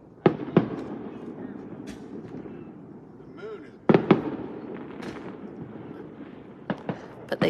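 Distant fireworks boom and crackle in scattered bursts, sharp pops arriving in pairs and clusters over a low background, while voices talk quietly in between.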